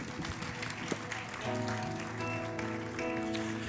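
A church congregation in São Paulo claps steadily for several seconds in a dense, sustained round of applause, with faint musical tones underneath.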